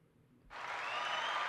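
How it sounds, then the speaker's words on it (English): Applause for the producer Brandon breaks out suddenly about half a second in, a dense sustained clapping from a studio audience that holds steady and loud to the end. "Can we have a round of applause for Brandon?"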